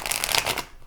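A deck of Rider Waite Smith tarot cards with smooth cardstock is riffled in one quick, close, crisp burst that fades out.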